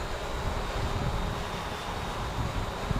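Steady wind buffeting across an estate grounds during a drone flight, a constant broadband roar and rumble with no breaks, loud and close to the microphone.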